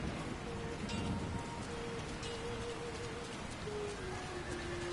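Steady rain falling over the town of Bree in the video game Lord of the Rings: War in the North, a constant soft hiss of drops with faint tonal game ambience underneath and no speech.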